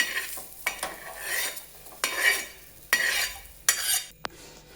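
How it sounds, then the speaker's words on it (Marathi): Chamkura stalks roast in a pan, with several sharp metal stirring scrapes and clinks over a soft sizzle, close and moderately quiet with no voices. "छान अशा आपण दांड्या भाजून घेऊयात"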